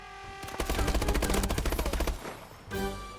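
Automatic gunfire in a video game: a long, fast burst of close, loud shots rattles in an even rhythm, tails off, then one more short burst follows near the end.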